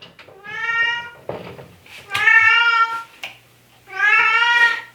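A cat meowing insistently in a home kitchen during salsa canning, three long loud drawn-out meows close by, separated by short pauses with a faint low hum beneath.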